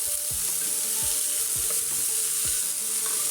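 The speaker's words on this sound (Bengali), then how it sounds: "খানিকটা দেখো ভাজা হয়েছে।" Mixed vegetables sizzle steadily in a hot pan for a Bengali mixed vegetable curry, with a spatula scraping and stirring in regular strokes roughly every half second; close and continuous with no talking.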